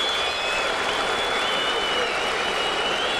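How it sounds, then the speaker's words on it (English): Crowd at Yankee Stadium during a 2009 Tigers baseball game, a steady loud roar of cheering and applause from a large audience, sustained throughout without a break. "that brings a cheer from the crowd here at Yankee Stadium"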